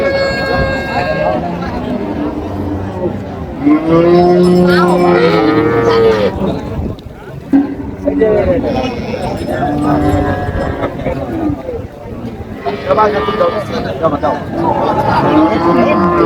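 Dairy cows and calves mooing loudly several times in long, drawn-out calls at the Raniganj cattle market in Dinajpur, with people talking nearby in between.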